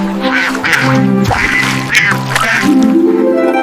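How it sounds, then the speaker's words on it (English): A duck quacks repeatedly at close range, loud nasal calls in an irregular rhythm filling the whole stretch. "D is for duck."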